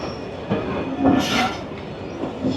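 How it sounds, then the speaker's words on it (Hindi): The Shah Latif Express pulls into Mirpurkhas railway station with a steady rolling rumble, light wheel squeal and a brief brighter screech partway through, no voices. "शाह लतीफ़ एक्सप्रेस अप्रोच बना रही है मीरपुर खास रेलवे स्टेशन पर"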